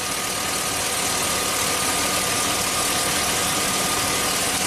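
A GM truck engine misfiring from a worn number 2 spark plug and wire idles roughly in a steady, close, continuous rumble with an uneven pulse and no talking.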